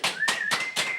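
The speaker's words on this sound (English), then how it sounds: "I would say that was a bigger round of applause than yours" A studio audience claps for co-hosts arriving on a show. The clapping comes in a few dense bursts, with a thin electronic tone held underneath, briefly and up close.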